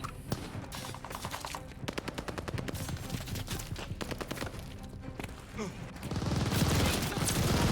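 Machine gun fire in the video game Call of Duty Vanguard, repeated rapid bursts of rattling shots with short gaps, then a louder rumbling roar of battle near the end.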